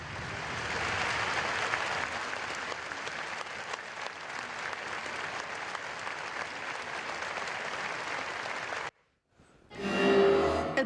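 A crowd at the tribute ceremony for the Barcelona attack victims, led by Carles Puigdemont and Soraya Sáenz, applauds in a long, sustained roar of clapping for about nine seconds before it cuts off abruptly, followed by a short, different burst of sound.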